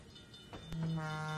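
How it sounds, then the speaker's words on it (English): A simulated locomotive horn from Trainz 2019 on the C&O Hinton route sounds a single sustained blast that begins partway in and holds to the end, fairly quiet. "I can also hear the horn."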